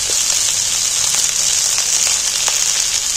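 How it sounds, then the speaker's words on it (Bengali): Ingredients for a jackfruit curry fry in hot oil, making a loud, steady sizzling hiss with small crackles throughout. "দেখো নাড়াচাড়া করতে করতে সব জিনিস নিয়ে হালকা হালকা ভাজা হয়ে গেছে।"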